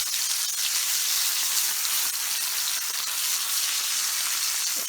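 A T-bone steak fries in butter in a hot pan with a loud, dense and even sizzle that holds steady throughout, close by with no voices.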